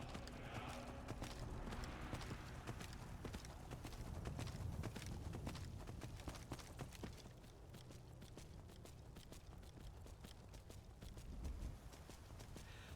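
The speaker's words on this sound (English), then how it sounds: "Summon my bone horse." A summoned bone horse in Skyrim gallops with rapid, rhythmic clip-clop hoofbeats that continue steadily at moderate volume for several seconds, with no voices over them.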